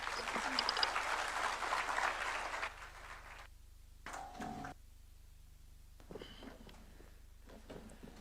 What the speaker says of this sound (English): Another round of applause for His Excellency as we take our seats